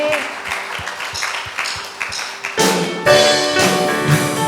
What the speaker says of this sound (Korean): 하나님께 박수로 영광 올려드립시다.